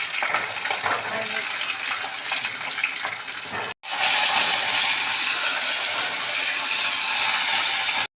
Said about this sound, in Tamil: கருவேப்பிலை, கட் பண்ண பூண்டும் நல்லா வதங்கணும்